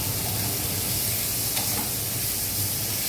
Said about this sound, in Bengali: সুন্দর করে তেলে রান্না করছি